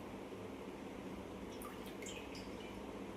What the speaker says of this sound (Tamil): குழம்பு கொதி வந்துடுச்சு. இப்போ நம்ம மீனை ஆட் பண்ணிக்கலாம்